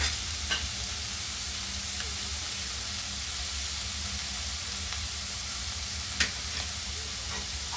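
Cluster beans and garlic stir-fry in a pan with a continuous hiss of frying, broken by occasional sharp scrapes and knocks of the spatula.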